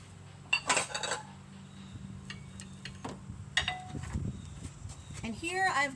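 Bacon-wrapped jalapeno poppers being set on a grill over direct heat, with metallic clinks and scrapes of tongs and grate, a low steady hum beneath and occasional faint background sounds.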